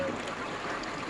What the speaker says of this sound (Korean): 창문을 열었는데요. 물소리 들리시죠?